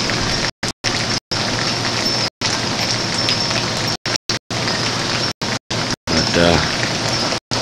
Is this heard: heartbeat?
no